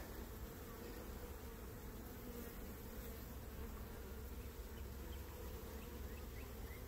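Bees buzzing at a cutout hive, a dense continuous hum of many insects, steady and fairly faint throughout with no talking.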